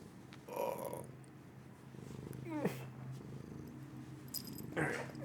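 A pet cat purrs right against a microphone, a steady low rumbling under brief bursts of nearby human voice and small rustles.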